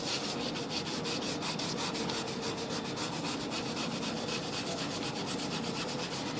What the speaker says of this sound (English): I'm going to show you how to use just the damp sponge, using your coarse side first